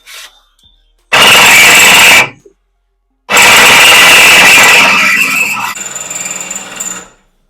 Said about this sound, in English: I can maybe drill from the bottom.